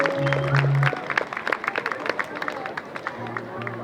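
Applause and cheering from an outdoor Levitt AMP concert crowd for the drummer. Clapping swells after a short bass phrase, then thins while low bass tones return.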